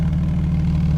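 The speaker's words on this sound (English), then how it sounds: "there's the exhaust. You can hear it, right?" Car engine idling, heard close up at the exhaust pipe, a loud steady low rumble with a faint rapid pulse, no voices.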